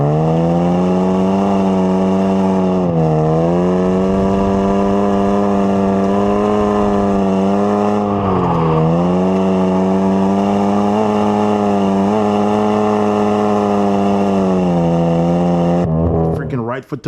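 A 1982 BMW E21 320i rally car engine drones at high revs on dirt, pitch rising and dipping with gear changes and throttle lifts, loud and close, with a brief rattle at the end.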